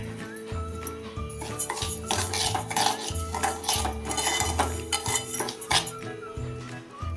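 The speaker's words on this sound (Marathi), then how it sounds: "हे एक वाटी वरीचे तांदूळ मी घेतलेत ते आता आपण चांगले भाजून घेऊया" Varai rice dry-roasts in a pan, a metal spatula clinking and scraping against the pan in an uneven rhythm, close and fairly loud, with a tonal hum underneath.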